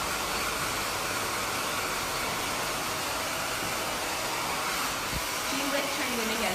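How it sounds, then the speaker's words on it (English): A hair dryer blows continuously during a short haircut in a salon, a steady loud whooshing hiss close by with small shifts as it moves. "Look at my hair dryer, it's constantly moving."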